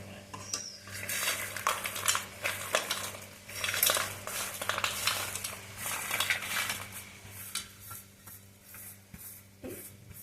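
Chicken pieces being mixed into pickle masala with a metal utensil in a pot, giving repeated scraping, clinking and stirring noises at close range, with a low steady hum underneath.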